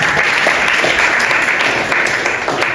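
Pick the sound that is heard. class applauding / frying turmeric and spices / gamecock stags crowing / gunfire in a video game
class applauding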